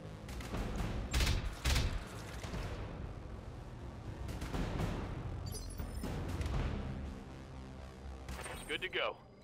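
Mech weapon fire in the video game BattleTech, with several loud bursts of gunfire and heavy impacts over a rumbling battle background in an abandoned factory setting.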